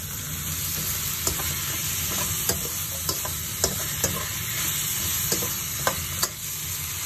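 Teriyaki chicken stir-fried in a thin-walled wok, a steady sizzle throughout with repeated sharp scraping and clinking of the utensil against the pan at irregular intervals, close and fairly loud with no talking.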